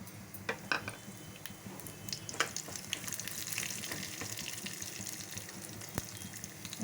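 Tempering spices and dried red chillies fry in hot oil for an ivy gourd stir-fry, giving a soft, steady sizzle dotted with sharp crackles and pops, fairly quiet and close, with no talking.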